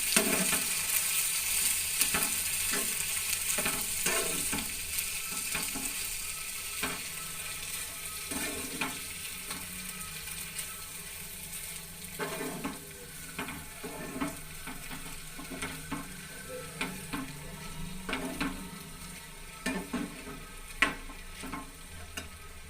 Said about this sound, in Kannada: ಚೆನ್ನಾಗಿ ತಿರುಗಿಸ್ತೀನಿ.